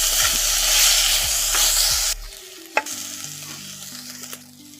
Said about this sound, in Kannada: ಕೊತ್ತಂಬರಿ ಸೊಪ್ಪನ್ನು ಹಾಕಿ ಚೆನ್ನಾಗಿ ಫ್ರೈ ಮಾಡ್ಕೊಳ್ಳಿ.